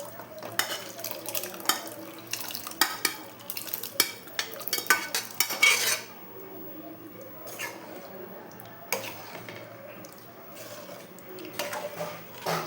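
Chickpeas and water go into a simmering chana masala in a pot and get stirred, giving intermittent scraping and sloshing bursts with soft bubbling between, close and moderately quiet.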